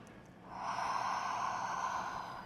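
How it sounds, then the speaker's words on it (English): One long, deep nasal inhale sniffing aromatherapy oil at close range, swelling to a steady breathy hiss and then fading out. "Take a couple of deep breaths."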